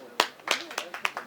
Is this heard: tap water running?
no